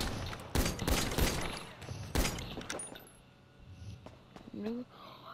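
Rapid bursts of gunfire in a video game role-play, several loud close volleys in quick succession, then quieter scuffling and shouted voices.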